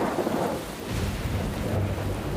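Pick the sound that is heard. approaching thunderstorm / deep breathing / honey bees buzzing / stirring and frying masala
approaching thunderstorm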